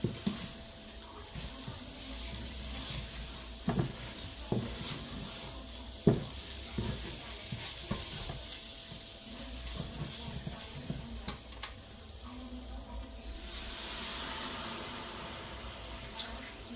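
Broth poured into a hot pan while stirring, a soft steady sizzle and watery hiss with occasional scraping clicks of the utensil, low and continuous throughout with no voices.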